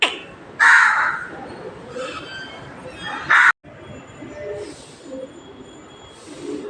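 A crow caws loudly and close by, giving several harsh, separate calls with short gaps between them, over quiet room noise and no talk.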